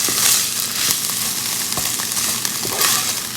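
Cream sauce with spinach, for low-carb stuffed bell peppers, bubbling and sizzling in a pan while being stirred, a close, busy crackle with scraping strokes and no talk.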